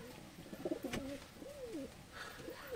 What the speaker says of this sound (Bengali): দেখো অনেক সুন্দর পায়রা দুটো।